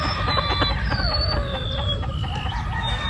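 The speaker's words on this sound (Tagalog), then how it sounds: "Gwapong manok." A local banded gamecock crows loudly and close by, one long drawn-out call with clucking fowl and other birds around it on a farm.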